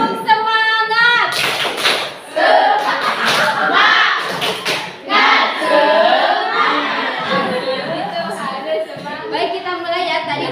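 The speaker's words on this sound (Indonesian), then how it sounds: "Sebelum kita mulai kita tepuk semangat dulu" An audience at an Islamic boarding school seminar in Bogor does a rhythmic spirit clap: quick, loud patterned bursts of hand claps mixed with shouting voices, framed by someone speaking before and after.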